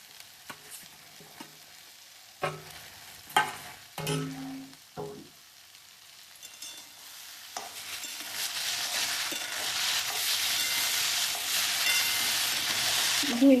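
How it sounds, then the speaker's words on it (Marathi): Okra tossed into a hot pan with mustard seeds, onion and tomato is stirred. A few clinks and scraping knocks come first, then a loud steady sizzle builds and fills the rest, close up with no talk. "त्याच्यामध्ये आपली भेंडी टाकून घ्यायची."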